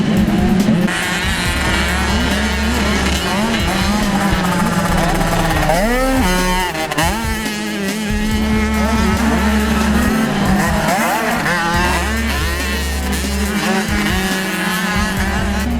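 Motocross motorcycles race around a dirt track, their engines droning and revving loudly and continuously as riders make passes, with several bikes blending into one dense, near engine roar throughout.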